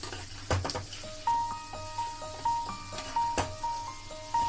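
Poha cooking in a pan on a rainy day, stirred and mashed with a spatula that gives sharp repeated scrapes and knocks over a faint sizzle, with a steady beeping tone in the background.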